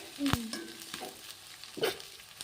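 Peanuts tipped into a hot pan of oil for Kannada-style capsicum rice, giving a soft sizzle with a sharp clatter near the start and scraping stir sounds later, close and moderately quiet.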